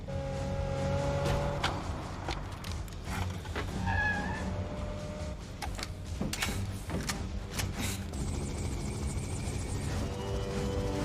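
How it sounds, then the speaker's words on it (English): Helicopter coming in during a scene from the film Terminator 2: Judgment Day, a rotor drone under scattered mechanical clanks, thuds and tonal film effects, with no speech. "Chopper's coming in."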